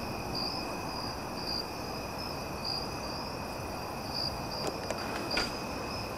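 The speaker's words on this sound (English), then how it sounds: "So relaxing just listening to all the cicadas" Cicadas buzz on a warm night outdoors, a steady high-pitched drone with a faint rhythmic pulsing, continuous and even throughout, with a few soft clicks near the end.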